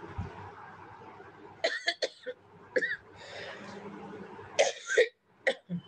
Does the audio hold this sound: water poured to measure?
no